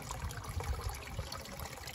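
A backyard garden waterfall trickles and splashes steadily, a soft continuous burble of running water with small irregular gurgles, heard alone without voices.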